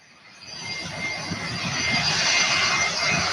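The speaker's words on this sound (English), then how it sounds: "this 757 has Rolls-Royce engines" Rolls-Royce engines on a Boeing 757 roar steadily and swell louder as the airliner passes at Louisville airport, a broad rushing drone with a high whine on top.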